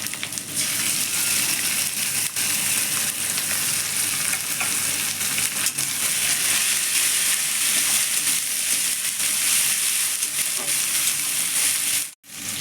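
A ginger and chilli spice paste frying for a spicy chicken dish, with a loud, continuous sizzle and scraping of a spatula stirring the pan, steady throughout until a brief drop near the end.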